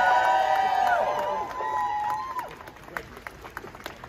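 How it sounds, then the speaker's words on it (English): A crowd at an outdoor pro-Palestine street protest on a city shopping street claps and cheers loudly, mixed with shouting voices, then thins to scattered claps and calls. "So please, round of applause for Dr. Kumaran."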